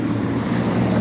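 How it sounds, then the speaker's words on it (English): Strong wind buffets the microphone in a loud, continuous low rumble while riding a small Honda Navi motorbike, steady and close for a brief moment. "it is incredibly, incredibly windy"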